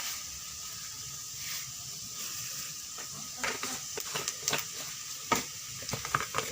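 Cumin and other spices sizzle and hiss in hot oil in a pan for dhaba-style chana mash daal, with scraping stir strokes growing busier midway, close and steady.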